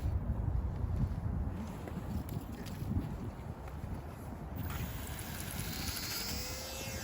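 Wind buffets the microphone at an RC airplane flying field, a loud continuous low roar of gusts throughout, with faint whining in the background late on.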